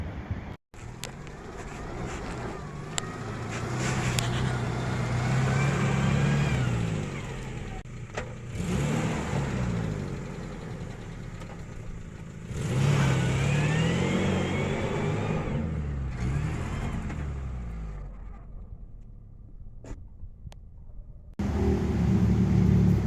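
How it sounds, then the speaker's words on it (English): A stock Geo Tracker small truck drives along, its engine revving up and easing off in several long rises with tire and road rumble, then briefly quieting before picking up again. "here's my stock Geo Tracker. It's a tiny truck with no lift kit"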